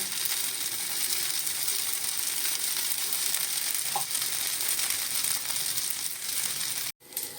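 A dosa fries in oil on a clay tava, a steady close sizzle and crackle with a faint scrape midway and a brief dropout near the end.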